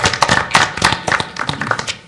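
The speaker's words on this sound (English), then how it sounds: "I'd like everyone to give her a round of applause." An audience at a public commission meeting applauds a newly introduced commissioner, a close, loud burst of many overlapping hand claps with sharp individual slaps, tapering slightly toward the end.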